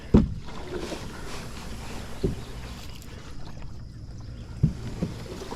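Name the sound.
canoe going over thick grass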